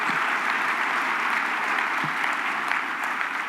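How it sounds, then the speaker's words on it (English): A summit audience in a large hall claps steadily, a dense even wash of many hands sustained for a few seconds, fairly distant and without voices. "Will you give Jerry Tiano, Sarisa Lucero, and Jenna West Heiss a round of applause one more time"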